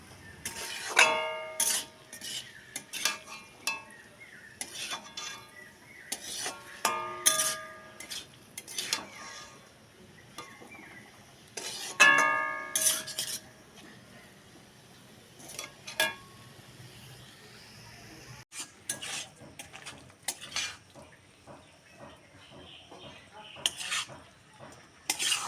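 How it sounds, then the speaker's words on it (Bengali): A utensil stirs and mixes dheki shak (fern greens) in a pan on a village-style stove, giving irregular scraping clinks and metallic taps against the pan with faint sizzling and quiet gaps between bursts. "আবারও সব কিছু একসঙ্গে মিশিয়ে নেব।"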